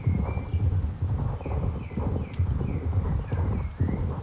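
A magic horse in Star Stable Online walks with clear, evenly spaced clip-clopping hooves, close and prominent, accompanied by soft chirping sounds and no voices.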